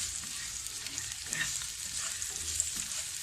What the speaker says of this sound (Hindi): हमने इसको भूनना है, मीडियम फ्लेम पे भूनेंगे।